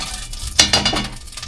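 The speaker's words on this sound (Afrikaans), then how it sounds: "Moet ook nie die deksel opsit as jy die vleis in die pot braai nie" Lamb meat sizzles in a pot with the lid off, a soft hiss broken by a couple of sharp scraping, stirring clatters partway through.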